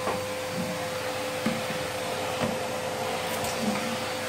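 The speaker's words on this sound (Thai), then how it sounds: "อันดูดฝุ่นมาดูดฝุ่น" A vacuum cleaner running steadily indoors while the house is cleaned, a constant loud whirring hum with a sustained tone and faint bumps as it moves, with no voices.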